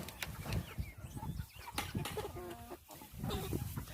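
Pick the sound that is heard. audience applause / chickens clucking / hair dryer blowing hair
chickens clucking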